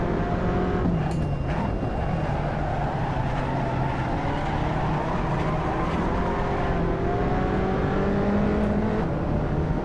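Race car engine from the Assetto Corsa driving game, droning steadily throughout at high volume, its pitch rising and falling through gear changes while braking and cornering, with no talking.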